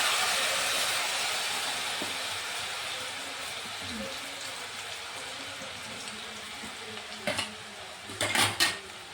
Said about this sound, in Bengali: তেল গরম হয়ে গেছে তো আস্তে আস্তে করে দিচ্ছি